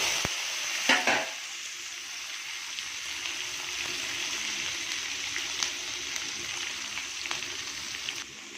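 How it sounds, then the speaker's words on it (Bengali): Onions frying in oil with whole garam masala, bay leaves and cumin for a meat curry, a steady hissing sizzle with a few clanks of a spatula against the pan near the start, no speech. "পেঁয়াজ ভাজার সময়"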